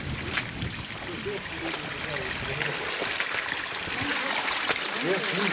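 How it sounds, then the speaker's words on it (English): Water rushing and trickling steadily along a small stream beside a well in the Brendon Hills, fairly loud and close, with faint voices in the background. "we've got water running down at present"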